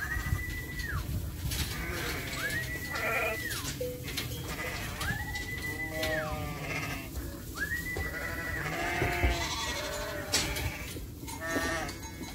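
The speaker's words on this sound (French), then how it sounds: "Cette brebis essaye d'entrer également car ils sont fans de ce fameux grain que l'on donne aux agneaux." Ewes in a barn in winter bleat repeatedly, several long wavering calls close by and others further off, over a steady rustling, shuffling barn background with no talk.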